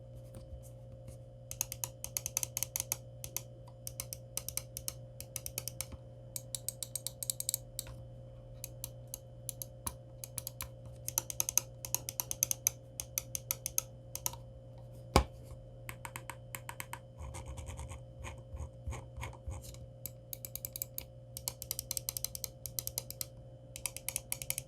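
Button clicks from a ROCCAT Burst Pro RGB mouse come in quick bursts and scattered single taps, sharp and close but fairly quiet, over a steady low electrical hum with no talking.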